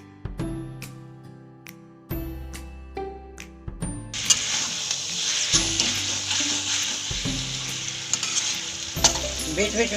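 Potato and eggplant fry in a pan and get stirred, with steady hissing sizzle and scraping close by that grows louder and denser partway through.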